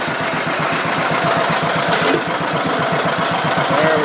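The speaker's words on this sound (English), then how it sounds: "There we go. She's running now." A John Deere Model B tractor engine runs steadily just after starting, with a loud, close, rhythmic low putt-putt idle throughout and no voices.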